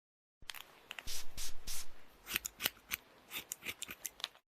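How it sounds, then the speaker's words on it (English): Scissors snipping repeatedly, crisp close cuts in quick irregular bursts with short pauses between them, heard alone with no voices. "Scissors."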